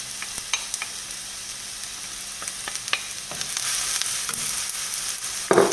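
Onions frying in a pan for scrambled eggs with chicken hearts, a soft continuous sizzle with occasional light clicks and scrapes of stirring, close and steady with no voices.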